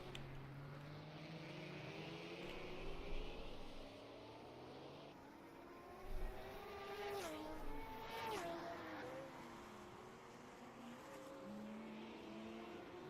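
Racing cars, including a Porsche, in a Group 5 touring car race at the Norisring street circuit, engines droning at a distance with rising and falling pitch as cars pass, steady crowd-like background wash throughout.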